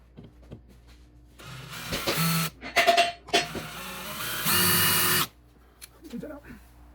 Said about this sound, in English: If you don't know how to use a rivet gun, you load it up, put it in the hole, pull it.